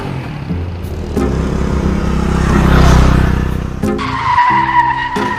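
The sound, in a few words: car skidding, a second-hand car arriving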